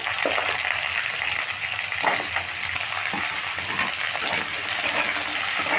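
Chopped papaya hits hot oil with chillies and spices in a pan and sets off a loud, steady sizzle and frying hiss. It runs without a break, with faint stirring scrapes and no voices.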